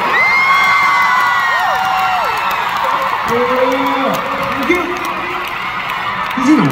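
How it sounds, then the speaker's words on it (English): A concert crowd at a show in Anaheim cheers and shrieks, with rising and falling whoops and screams over a continuous roar, loud and close throughout. "So big round of applause to Chami."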